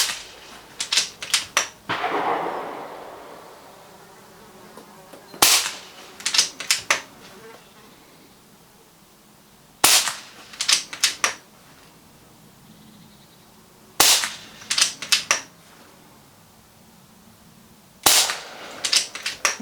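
Air rifle fired repeatedly at paper targets during rat-shooting pellet testing: five sharp, clustered bursts of cracks and pellet impacts spaced about four seconds apart, close and loud with quiet gaps between, no talking.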